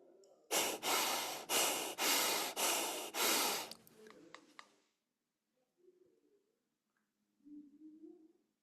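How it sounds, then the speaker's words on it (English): Breath-of-fire breathwork: a rapid series of about five loud, forceful exhales and inhales, followed by a few softer breaths. Near-silence follows, broken by faint, brief breathy sounds. "forceful exhale and inhale"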